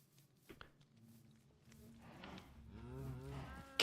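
Cows on a Minecraft cow farm moo in the video game, a quiet low call rising to a louder, drawn-out moo, with a few soft steps beforehand.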